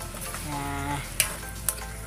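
Duck kaldereta stew bubbling in a pot, a steady close sizzle and simmer with a couple of sharp clinks of a utensil against the pot, no voices.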